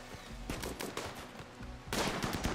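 Gunfire in a RimWorld battle: rapid bursts of automatic shots, close and loud, crackling in clusters with a heavier volley toward the end.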